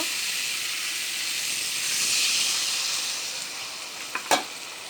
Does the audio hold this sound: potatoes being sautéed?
yes